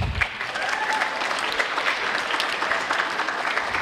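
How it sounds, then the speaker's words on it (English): Audience applause at a spring school choir concert as concert choir members are called up for certificates; a continuous wash of many hands clapping at moderate loudness for a few seconds. "Why don't we hold our applause?"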